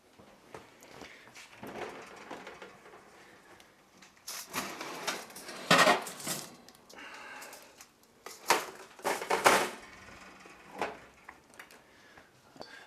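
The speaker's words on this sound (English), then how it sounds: "I'm going to take it out of the oven and show you how to take it out of the silicone pan" A silicone pan holding a gluten- and dairy-free orange and almond cake is lifted out of the oven, with soft clunks, rattles and a couple of sharper clatters of the rack and oven door, fairly close.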